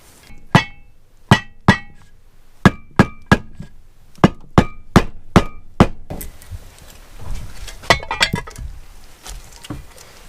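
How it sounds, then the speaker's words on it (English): A rubber mallet taps seals into a Suzuki TS185 motorcycle engine case during a bottom end rebuild: about a dozen sharp, close knocks in uneven clusters, followed by softer clinks and handling noises. "Just using a rubber mallet, I'm going to tap them in."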